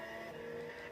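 An engine screaming at high revs in the racing video game Gran Turismo 6, a brief, steady, faint tonal drone at full throttle.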